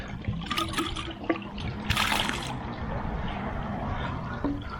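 Water rushes and trickles steadily while a koi pond bottom drain is purged with the bypass on, a continuous close flowing wash with brief splashy surges.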